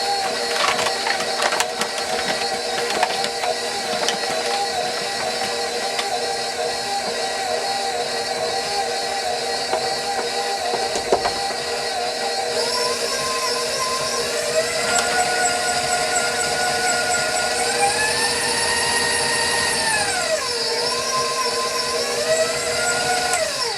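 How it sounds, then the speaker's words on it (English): A KitchenAid stand mixer churns flour on slow speed for Irish shortbread, giving a continuous motor whir with a rhythmic mechanical drone and shifting tones throughout, steady and close with no talking. "I just put the KitchenAid on slow and I'm going to start mixing my flour"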